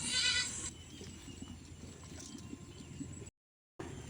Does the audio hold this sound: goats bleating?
yes